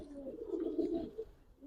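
Black Dubas pigeons at a loft coo in a soft, low, continuous burble, close and fairly quiet, with no talk over it.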